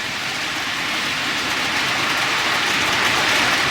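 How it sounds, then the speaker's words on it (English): A steady, loud rumbling roar of a passing container train, broadband and continuous, swelling slightly toward the end with no voices. "there's the container train"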